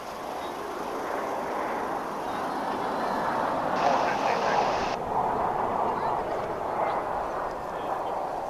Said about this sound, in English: It's a Mitsubishi CRJ 900 ER for extra regional.